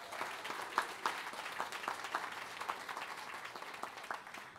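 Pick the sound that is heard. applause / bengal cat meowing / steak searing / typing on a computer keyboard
applause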